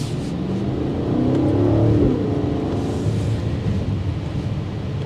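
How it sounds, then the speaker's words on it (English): A deep exhaust rumble from a 2024 BMW X5 M60i SUV builds as it accelerates, peaks with a rising growl, then settles into a steady low drone. "it has such a rumble to that exhaust"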